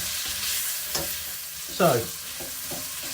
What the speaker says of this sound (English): and also of course obviously I've got to cook my eggs